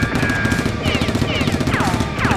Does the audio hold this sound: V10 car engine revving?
no